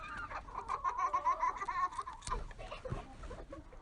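Chickens cluck and squawk nearby in a farmyard during rabbit butchering, a run of close, rapid clucks in the first couple of seconds followed by scattered softer calls and handling noises.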